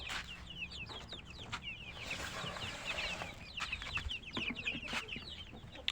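A crowd of chickens clucks and chatters in their run, with many overlapping calls, near and soft, continuing throughout.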